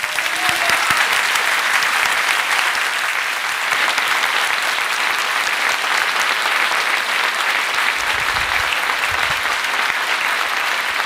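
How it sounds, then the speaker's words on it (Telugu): A church congregation claps hands together in sustained, dense applause at steady loudness throughout, a broad wash of many hands with no talk over it. "రెండు చేతులు జోడించి చప్పట్లు కొడదాం"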